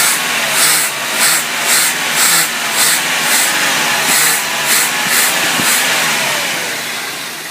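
A 1987 Firebird engine is hot-wired for a test run and idles with a loud, steady mechanical roar. Its pulsing hiss repeats roughly every half second, close by, easing off slightly at the end.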